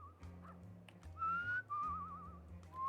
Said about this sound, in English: Fine, time to whistle.